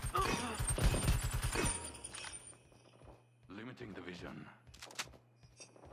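Pistol shots in the mobile tactical shooter RushB, a quick loud burst of rapid shots at the start, then quieter clicks and game sounds while someone talks in Spanish.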